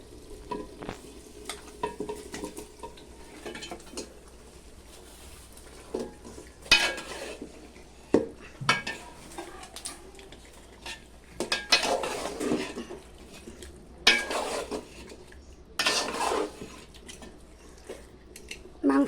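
Marinated beef stirred in a pot over a clay stove on a veranda, with scraping, clattering strokes of a spoon against the pot over a low sizzle, louder bursts in the second half; no talk.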